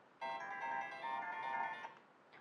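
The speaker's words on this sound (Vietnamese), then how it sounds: "Nút bên hông dùng để kích hoạt chuông điện thoại." A CSM Kaixa Gear toy phone plays a short electronic ringtone, a bright, steady tonal chime lasting under two seconds, clear and moderately close against a faint background hiss.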